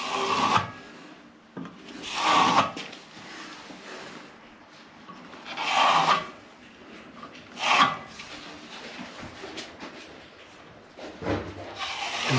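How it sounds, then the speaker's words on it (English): A plastering trowel scrapes and drags into a wall corner in repeated rasping strokes, each swell of sound followed by a quieter pause, close and moderately loud. "you have to get your trowel and you have to very carefully push it into the corner, pull back, drag the trowel away"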